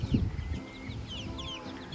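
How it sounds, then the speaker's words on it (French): Chickens mill about in a farmyard coop near young chicks, giving soft clucks and scattered high chirps at moderate distance, with a brief louder call near the start rather than a full rooster crow. "il y a les coqs qu'on peut chanter là cette fois-ci, en voyant les petits là"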